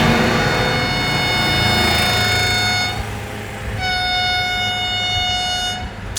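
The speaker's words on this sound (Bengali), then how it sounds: "বন্দে ভারত ট্রেনটা যেটা নিউ লঞ্চ হয়েছে ওটা এখন আসবে।" A newly launched Vande Bharat train arrives at a station, sounding long, loud horn blasts twice with a short gap between them over the steady rumble of the rolling train. No voices are heard.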